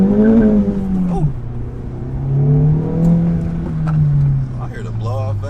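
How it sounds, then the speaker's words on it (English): A four-cylinder Acura Integra Type S fitted with a turbo and a limited-slip differential accelerates, heard from inside the cabin. A loud, steady engine drone rises and falls in pitch, with a brief voice near the start. "I hear the blow-off valve up in here too."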